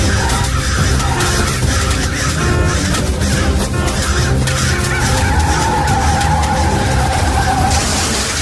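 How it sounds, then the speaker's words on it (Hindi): Car skidding and crashing as a horror story sound effect, a loud, dense, sustained burst of screeching and noisy impact filling the whole stretch without any talk. "गाड़ी का सचमुच एक्सीडेंट हुआ।"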